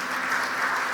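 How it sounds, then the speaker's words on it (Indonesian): Congregation applause during a church service, a dense, even wash of clapping that fills the whole short moment with no voices over it. "Ini tepuk tangan buat Allah kita."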